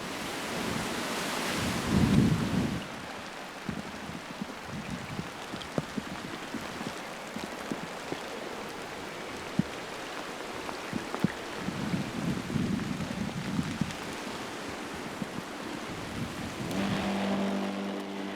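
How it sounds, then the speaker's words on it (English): Wet, gusty weather from the first Atlantic low of autumn passing over a garden in late September: steady rain and wind noise hiss throughout, with stronger gusts buffeting the microphone near the start and again midway, and no voices. "the first Atlantic low of autumn passes through to give a day of wet,"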